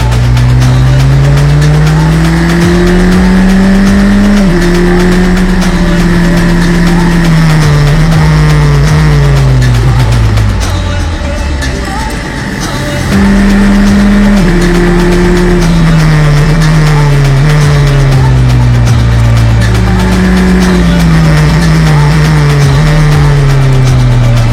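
Race cars at the GP Explorer event roar loudly and steadily on track, their engines rising and dropping through gear shifts as they pass close by, with a brief dip in the middle and no talk.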